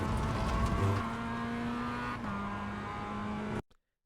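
A Mazda MX-5 Cup race car accelerates on the track at VIR, its engine droning loud and steady from close by with a brief dip partway through. The sound cuts off abruptly near the end.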